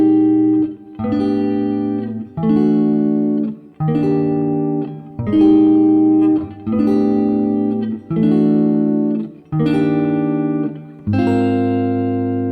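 Guitar plays the chorus of a song, sustained chords struck in a steady repeating pattern of about eight phrases, loud and close with no talking.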